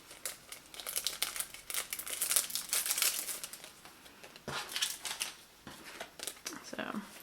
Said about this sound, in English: I will take this out of the plastic and show the cards again